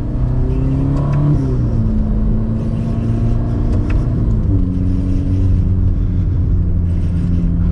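A 2021 Ferrari Roma's exhaust drones loud and steady from the cabin while driving slowly in race mode, with low harmonic engine tones shifting pitch as the revs rise and fall.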